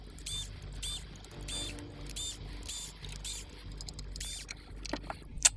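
Screws being backed out of the end of an LED vanity plate power panel with a 2.5mm hex tool, a series of close, faint ratcheting clicks and small metallic scrapes in a quiet room.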